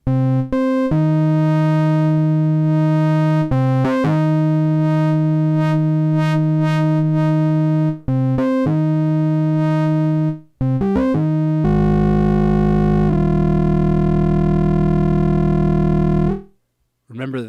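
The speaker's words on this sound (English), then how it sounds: "Full wave rectifier." Buzzy, harmonically rich synthetic tones from a single sine wave through full wave rectifier distortion in Ableton Live's Roar, sustained notes with short breaks, later shifting to a harsher, denser distorted tone.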